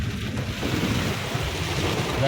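Continuous rushing of floodwater flowing through farm fields fills the scene, with wind buffeting the microphone throughout.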